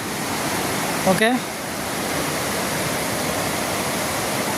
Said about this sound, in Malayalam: ഇതാ വെള്ളം വീഴുന്ന ശബ്ദമാണ് കേൾക്കുന്നത്